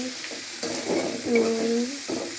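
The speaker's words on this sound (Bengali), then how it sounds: "রসুনটা একটু ভাজা ভাজা হলে অন্যান্য মশলাগুলো দিয়ে দিব।" Garlic frying in a pan, producing a soft steady sizzle with a few scraping stirs and a brief squeak of the utensil, close and moderately quiet.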